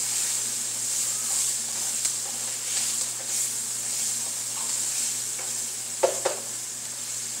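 Gravy seasoned with thyme and a bay leaf fries in a pan, giving a steady, soft sizzle and hiss throughout, with a few light stirring clicks and scrapes near the end.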